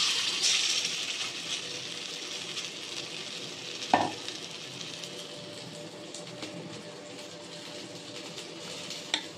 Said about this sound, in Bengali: প্রত্যেকটা মাছ এইভাবে বেসনের ব্যাটারে একটু কোট করে নিয়ে ভেজে নেব।